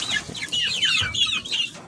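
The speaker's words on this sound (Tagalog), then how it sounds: "So yan na po yung mga sisiw natin mga manok na 18 pieces oh." Several two-month-old chickens cluck and chatter close by, a busy overlapping stream of short calls with no talking.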